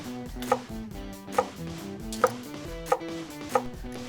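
A knife cuts through a cabbage on a cutting board in five distinct, evenly spaced chops, each a sharp close thud with a crisp crunch.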